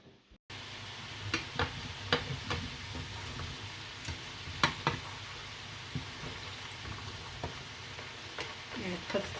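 Pekmez frying in a pan at home, with a steady close sizzle and scattered sharp crackles and pops throughout, no talking.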